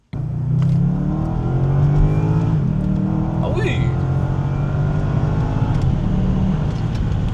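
A car engine revving in sport mode with a slightly vacuum-cleaner-like whine, loud and close, rising and falling steadily throughout while a person exclaims briefly over it.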